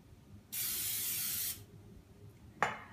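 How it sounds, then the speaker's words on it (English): Pam cooking spray sprays onto a round baking pan in one steady, loud hiss lasting about a second, followed after a pause by a short second burst. "spray it with Pam"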